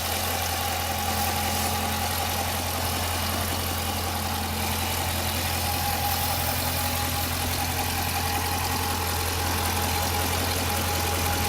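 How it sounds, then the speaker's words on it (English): A deep V8 engine in a 2015 Dodge Challenger R/T Scat Pack idles steadily, its low exhaust rumble continuous and even with no speech over it. "let's hear the mufflers again. Hear the exhaust."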